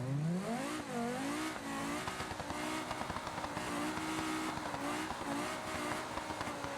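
A virtual Audi S8 with a high-revving turbo engine accelerates hard in the BeamNG driving simulator, its loud engine note climbing steadily through gears, with brief shift dips and a continuous roar throughout.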